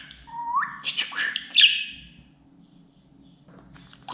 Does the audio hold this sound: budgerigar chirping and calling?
yes